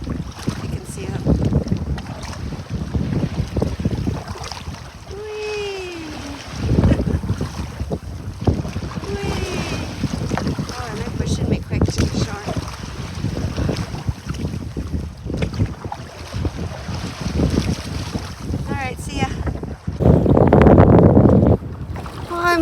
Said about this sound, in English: these are some crazy waves out here